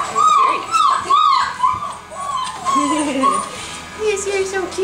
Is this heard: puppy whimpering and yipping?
yes